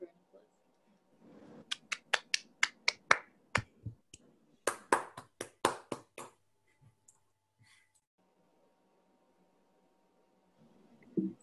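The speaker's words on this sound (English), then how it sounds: "let's clap for him" A small academic audience gives scattered clapping after a mathematics talk, a quick burst of sharp, fairly faint claps that thins out, with some talk before and after.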